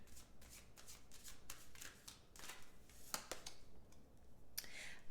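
Tarot cards being shuffled by hand, a run of soft riffling flicks and sharp snaps repeating irregularly, close and fairly quiet, with no talk.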